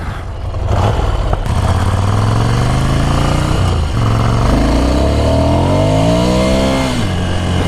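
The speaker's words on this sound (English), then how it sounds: "Back wheels just spinning up." A Scrambler motorcycle ridden off-road revs hard as its back wheel spins up, the engine note rising and falling in loud, close sweeps that run continuously with no talk.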